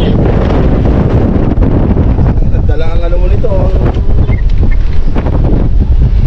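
Strong wind buffets a small fishing boat out on the water, a loud, constant roar of gusts across the microphone, while someone talks briefly in the middle of it.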